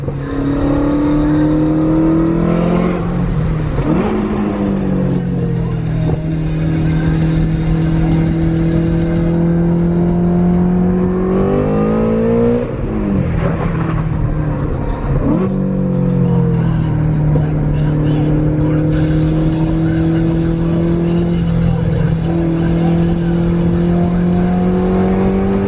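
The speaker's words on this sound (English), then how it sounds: "Mustang's always a very fun car to drive, especially when I gotta make up time on the highway." A Ford Mustang pulls hard on a highway at night, its loud, steady engine note rising through several gear changes with brief dips between shifts, continuous and close throughout.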